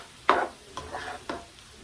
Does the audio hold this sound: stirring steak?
yes